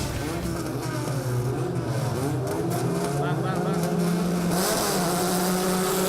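Formula 4 race cars pull away at the start of a wet race, engines rising and falling in overlapping revving sweeps, loud and continuous, with a commentator speaking over them.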